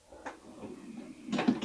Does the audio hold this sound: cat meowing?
no